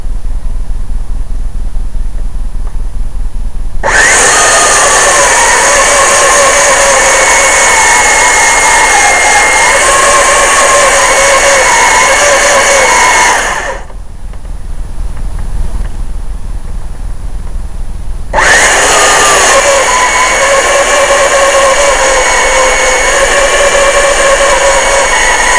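A Carmichael handheld bandmill cutting wood outdoors, its loud steady whining roar running in two long stretches with a brief quieter pause between them.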